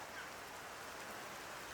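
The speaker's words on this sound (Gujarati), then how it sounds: "વરસાદ ચાલુ થઈ ગયો છે" Rain begins to fall outdoors, a faint, even patter of drops spread broadly and steadily with no voices over it.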